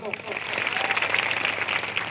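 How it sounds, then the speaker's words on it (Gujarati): A crowd at a political rally in Mora, Gujarat, claps in a dense, steady burst of applause that fills the whole moment at a moderately loud level. "એમના માટે એકવાર જોરદાર તાળી પાડલો"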